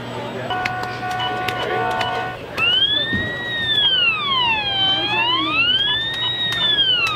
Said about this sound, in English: The last sound there was the collision alarm.